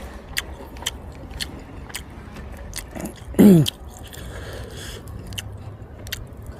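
Someone eating Isan dishes (som ngua, grilled catfish, fermented-fish jaew) bites and chews close to the mic, with soft wet chewing ticks throughout and one loud crunching bite in the middle.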